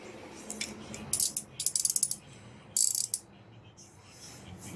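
Rapid bursts of ratchet clicking from a 12 mm banjo bolt being loosened on the slave cylinder of a 1984 Honda Nighthawk 700S motorcycle, two distinct runs of sharp close clicks with quiet pauses between, no talking.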